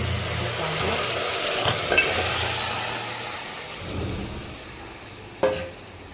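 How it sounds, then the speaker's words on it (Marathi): Mutton goes into a hot pan and is stirred, giving a continuous sizzle with low scraping movements, a brief clatter early on and a sharp metallic knock near the end. "हे असं मटण याच्यात टाकून घ्या. छान छान असं हलवून घ्या."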